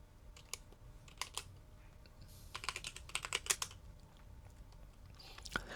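Fingers tap a computer keyboard while a command is entered in a terminal. The keystrokes come as quiet, irregular clicks in short bursts, close and faint over a low room hum.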